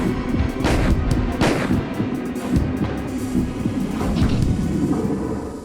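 Heavy, booming gunfire from the Resident Evil video game as the player shoots down the Tyrant, with repeated loud blasts over a dense rumbling roar throughout.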